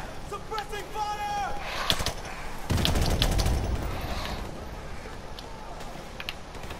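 Rapid bursts of gunfire in Call of Duty Modern Warfare Remastered crackle through a battle scene, with a heavier sustained volley kicking in midway and trailing off into scattered shots, voices and effects mixed in.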